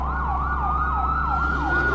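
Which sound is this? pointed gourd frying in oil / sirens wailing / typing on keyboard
sirens wailing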